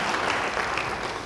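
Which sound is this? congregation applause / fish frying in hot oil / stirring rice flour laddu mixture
congregation applause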